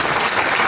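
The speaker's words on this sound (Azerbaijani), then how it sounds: "Alqışlayın" Audience applause at a memorial gathering, a dense steady burst of clapping from a crowd, close and loud throughout.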